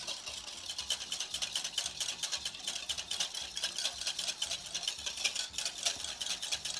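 Whisk beating steadily in a bowl as peanut oil is added to a vinegar and mustard vinaigrette, giving a fast, even, close-up rhythmic clatter that runs continuously without pauses.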